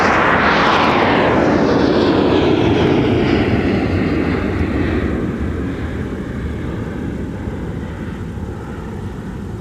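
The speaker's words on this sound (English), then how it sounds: "One of Sun Country's newer 737 900 ERs getting out of here." A Sun Country Boeing 737-900ER jet departs from an airport, its loud engine roar strongest at the start, then steadily fading into the distance with no one speaking.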